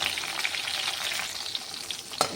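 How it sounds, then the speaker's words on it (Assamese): Fish frying in hot oil crackles and sizzles steadily up close, with a sharper spatter near the end and no voices. "এয়া মাছ ভজা হৈ গৈছে। এতিয়া মই মাছখিনি তেলৰ পৰা উঠাই ল'ম।"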